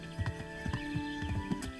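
Horse hooves clip-clop along a road in the medieval game Kingdom Come: Deliverance, a steady walking rhythm of paired hoof strikes over a low ambient bed.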